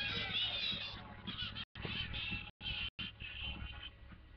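A white female Angry Birds plush toy plays its built-in sound, a loud, continuous squawking honk like a goose that runs for several seconds with a few brief gaps.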